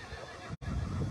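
A horse neighs during a horse show in Lurín, a brief whinny set against crowd and venue noise, with a split-second gap of silence cutting through the middle.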